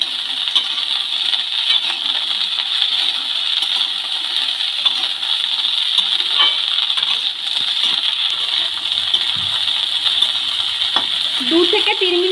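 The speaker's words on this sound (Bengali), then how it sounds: "ফুলকপিগুলো হালকা করে ভেজে নেবো" Small cut cauliflower florets frying lightly in a pan, heard close up as a steady, even sizzle that lasts the whole time, with a few faint stirring clinks and scrapes.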